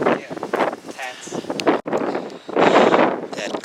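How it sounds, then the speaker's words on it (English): Strong, cold wind gusts outdoors near a rock cliff, buffeting the microphone in loud rushing bursts that rise and fall, with people talking through it. "it is extremely windy and cold."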